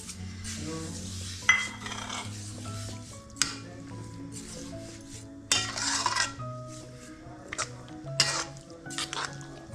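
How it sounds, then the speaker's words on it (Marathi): Carrot halwa with sugar and milk being stirred in a pan, a gentle sizzle with repeated scraping and clinking of a spoon against metal, close and moderately quiet, and faint speech. "हे सगळं हलवायचं असं चांगलं, दूध आटवायचं ह्याच्यात घट्ट होईपर्यंत."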